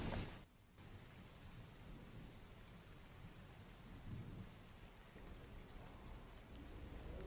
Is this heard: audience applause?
no